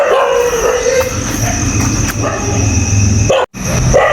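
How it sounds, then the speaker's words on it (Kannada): Dogs bark and howl at night near a school, the barking continuous and moderately close over a steady hum, broken by a brief drop to silence just before the end. "ಗೈಸ್ ನೋಡಿ ಗೈಸ್, ನಾಯಿ ಎಲ್ಲ ಸರಿಯಾಗಿ ಬೊಗಳ್ತಾ ಇದೆ."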